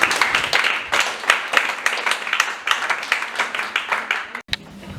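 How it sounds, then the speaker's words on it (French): Staff members clap for Miss Engerland at a nurses' day event, a steady run of individual hand claps from a small group, fairly close, briefly dropping out near the end before resuming more softly. "Je demande au staff d'applaudir Miss Engerland."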